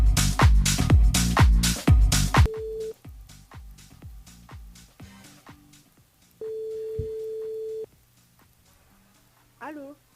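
A telephone line tone sounds on a radio call-in show as the host dials a listener, with a short tone and then one longer steady tone following rhythmic music, and near silence between them.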